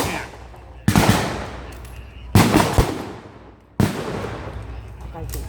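Heavy gunfire during a D-Day bridge battle reenactment at the Orne bridges, three loud bursts each decaying into a long rumbling echo outdoors, with a narrator's voice faintly underneath.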